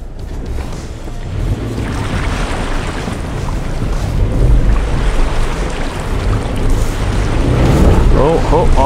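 A 2021 Subaru Forester drives off-road through a shallow stream, with continuous loud rushing and splashing water and rumbling under wind noise throughout.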